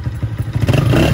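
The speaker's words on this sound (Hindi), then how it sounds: "मैं पहले बाइक को थोड़ा गर्म कर रहा हूँ" A Honda CG 125 motorcycle fitted with a smoke kit idles while warming up, its low, throbbing single-cylinder pulse close and loud, then the revs climb and the engine grows rougher near the end.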